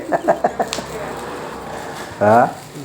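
A rooster gives a few short clucks at the start, and after a pause comes one louder, harsher cluck or crow from the same bird, fairly close with a quiet background.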